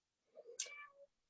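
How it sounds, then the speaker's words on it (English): A cat shut in a room gives one drawn-out, unhappy meow, faint and somewhat distant, with a rising then falling tone and nothing else around it. "the cat got locked in the room with me and now is not happy"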